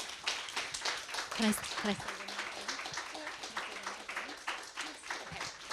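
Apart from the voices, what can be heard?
audience applause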